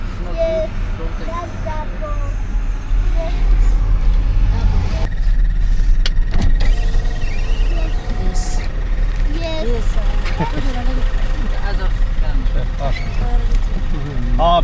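Busy street traffic in Addis Ababa, a steady wash of car and truck engines with passing vehicles, loud and continuous, while people chat nearby.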